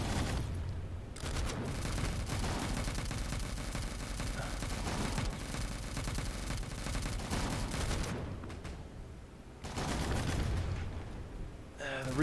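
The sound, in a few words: guns firing in a video game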